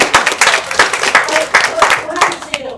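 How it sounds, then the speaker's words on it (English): An audience at a board meeting panel breaks into loud, close applause with sharp individual claps and rhythmic bursts, a few voices mixing in beneath the clapping. "Seriously, we should give her applause."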